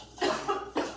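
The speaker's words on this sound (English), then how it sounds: "Cough it out." A few quick, close coughs in a short burst, two main hacks with a smaller one between, sharp and fairly loud in a quiet room.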